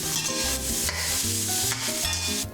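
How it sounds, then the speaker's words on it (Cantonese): Pork ribs are stir-fried in oil with ginger, garlic, star anise, cinnamon bark and dried chilies in a wok. A steady sizzle runs under repeated scraping strokes of the spatula, close and fairly loud, with no voices. "再落排骨拌炒均勻"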